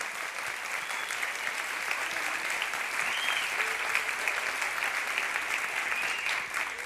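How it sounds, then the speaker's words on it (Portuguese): A church congregation applauds at a celebration service, a sustained, even wash of many hands clapping together, dense and steady, with a few faint voices rising over it. "aplauda ao Senhor"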